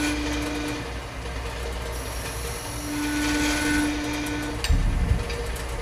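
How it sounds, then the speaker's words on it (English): A skew chisel's long point cuts a notch in wood spinning on a lathe while making a bagpipe chanter cap, giving a steady scraping whir over the lathe's hum, with a brief louder knock near the end. "cut a notch with the long point of the skew chisel"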